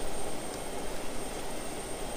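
A damaged jet aircraft in the video game Just Cause 2 gives a steady, loud roaring engine drone with broad hiss and rumble, continuous throughout.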